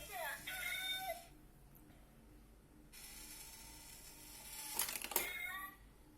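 A toy cat coin box whirs and clicks as its mechanical paw grabs a coin after a button press, a faint, brief mechanical rattle with a short, louder flurry near the end.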